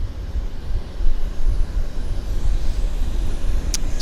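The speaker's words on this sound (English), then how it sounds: "that's our 757" A FedEx Boeing 757 at Vancouver airport gives off a steady, loud, broad engine roar with a low rumble, continuous and fairly close, with no speech.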